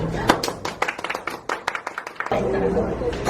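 A small group of friends out for a meal claps hands a few times, uneven and scattered claps close by, with talking and laughter around them.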